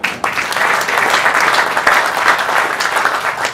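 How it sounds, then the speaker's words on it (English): Audience applauding at a groundbreaking ceremony, a dense steady wash of many hands clapping that continues without a break for several seconds. "help me give him a round of applause"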